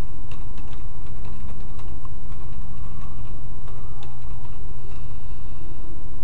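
Rapid keystrokes on a computer keyboard entering an email address, a close, loud stream of small clicks with irregular spacing that runs throughout over a low steady hum.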